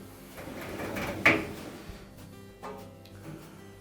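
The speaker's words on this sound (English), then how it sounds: "We'll just rotate that drum a couple of times to make sure that it does turn the motor and blower wheel." A Whirlpool dryer drum is turned by hand during a drum glide and cushion repair, making a soft sliding rumble with one sharper knock partway through and a smaller thud near the end, close and quiet.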